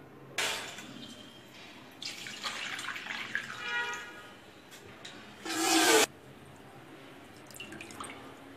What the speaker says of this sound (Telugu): వీటిని మళ్ళీ నీళ్ళు వేసి కడుక్కుందాం